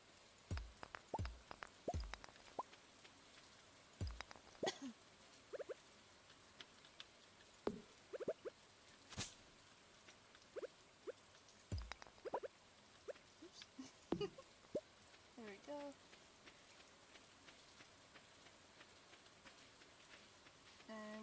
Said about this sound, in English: I love the rain noise,